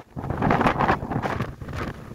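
Strong gusting wind at a mountain summit buffets the microphone in loud, rumbling waves that swell and ease over a couple of seconds, with no voices.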